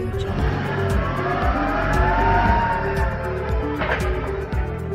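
A truck drives through an RFID portal in a warehouse, its engine and tyre noise rising and falling steadily at close range for several seconds.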